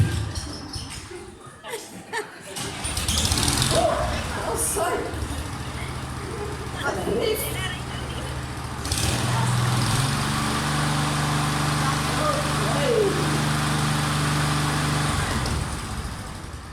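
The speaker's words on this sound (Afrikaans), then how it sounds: "Maar ten minste weet ons nou die grassnyer kan werk, né?" A lawnmower engine sputters to life and settles into a steady running drone with a low hum, while people talk over it nearby.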